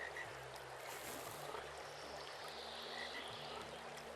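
Frog croaking in the Inspector Schmidt: A Bavarian Tale video game, set in a Bavarian countryside scene, a steady low croaking repeating over an ambient outdoor background with no talking.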